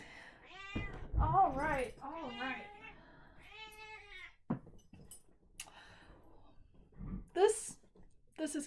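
A pet cat meows several times up close, drawn-out wavering cries, with a person speaking briefly between them and faint jingling or clinking nearby.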